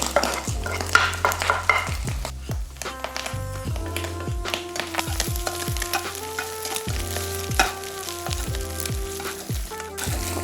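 Shallots and garlic fry in a pan with a constant crackling sizzle while a utensil scrapes and taps against the metal in quick, uneven strokes throughout, close and fairly loud, no voices.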